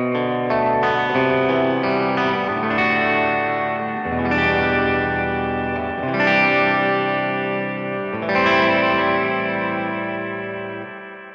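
An electric guitar plays through a Vox AC30 with a Boss RE-202 Space Echo, giving loud, sustained chords and notes with long repeating delay tails and a chorus-like shimmer and no talking.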